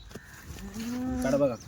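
A single drawn-out bleat from a Kathiyawadi dairy goat, close and fairly loud, rising slightly before it ends.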